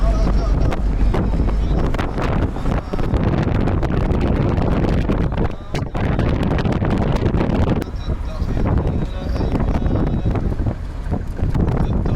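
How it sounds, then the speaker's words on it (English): A car drives into Atar in Mauritania with heavy wind buffeting the microphone, a loud, continuous roaring rush throughout, with people talking over it. "Driving into Attar."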